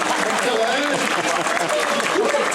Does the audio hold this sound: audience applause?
yes